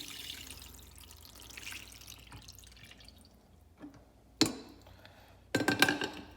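Water is dumped into the reservoir of a drip coffee maker in a couple of quick splashing bursts near the end, after quieter handling clicks and faint background hiss.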